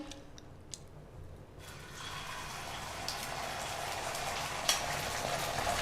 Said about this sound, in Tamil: இப்போ ஆம்லெட் போட போறோம்.